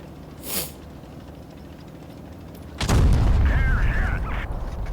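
A tank cannon fires in the game World of Tanks Blitz, one loud booming shot that cuts in sharply and rumbles on under a steady mechanical hiss of engine noise, after an earlier faint whoosh.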